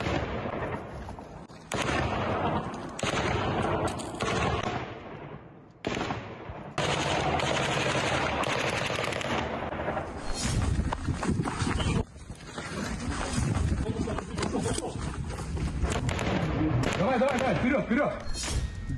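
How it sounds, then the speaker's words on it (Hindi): Loud war combat sounds with rapid bursts of gunfire and heavy explosion thuds, broken by sudden cuts and short gaps, with talk mixed in. "धमाकों से थर्राती धरा और गोलियों की तड़तड़ाहट से कांपती कायनात।"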